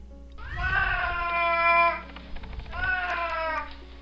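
Several cats meow in long, drawn-out calls from stainless steel cages at a North Carolina animal shelter, two loud, close cries in sequence with a brief gap between them and no talking.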